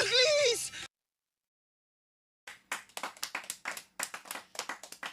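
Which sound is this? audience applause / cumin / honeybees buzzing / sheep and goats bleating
audience applause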